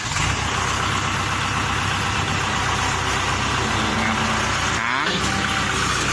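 A Kubota L5018 tractor engine runs hard with a loud, steady, close roar that holds constant throughout, with a brief dip and shift in tone near the end and no talking.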